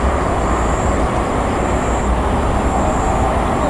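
Malabar passenger train rolling past at close range, a steady loud rumble of wheels and carriages with a faint high whine above, continuous throughout.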